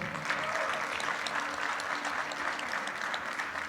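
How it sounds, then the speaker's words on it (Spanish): An assembly audience applauds steadily for an introduced delegate from Sinaloa, a continuous wash of many hands clapping at even loudness throughout. "Un aplauso, por favor."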